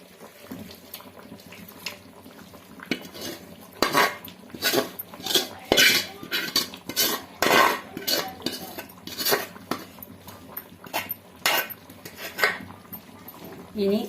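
Beef liver for Kerala-style ularthu is stirred with masala in a pan, producing repeated clattering scrapes and metallic knocks of a spoon against the pan in irregular bursts, with water sounds and some background noise.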